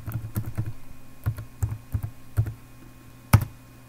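A password is typed on a computer keyboard while an FTP server is set up on Windows 7: about a dozen irregular, close keystroke clicks, ending with one sharper, louder press.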